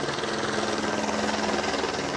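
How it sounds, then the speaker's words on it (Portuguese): Police military helicopter flying overhead, a steady loud rotor drone with constant chopping throb and engine whine filling the scene throughout, no voices. "Logo cedo, o helicóptero Águia da Polícia Militar foi acionado para dar suporte às viaturas."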